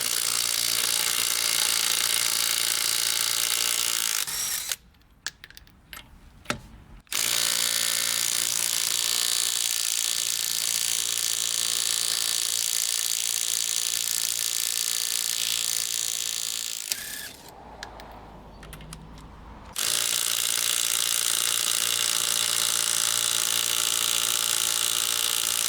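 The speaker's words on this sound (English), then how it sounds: "we were able to remove all 3 of those lug nuts with the Hercules" A Hercules 12-volt cordless impact wrench hammers lug nuts loose in long, loud, continuous rattling bursts, broken by two short pauses, with no talking.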